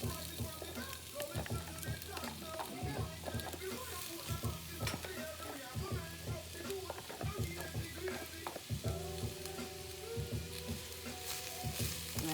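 Onions fry in a hot pan, making a steady crackling sizzle with occasional stirring, while a person talks over it throughout.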